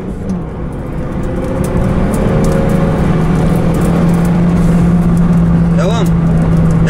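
A Renault Megane RS runs at full throttle around Istanbul Park racetrack, its engine a loud steady drone with a rising tone, heard from inside the car while a co-driver calls instructions over it.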